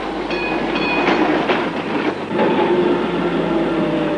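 A tram or streetcar rolls along its rails with a steady rumbling clatter and repeated metallic clicks from the wheels, loud and continuous throughout with no talking.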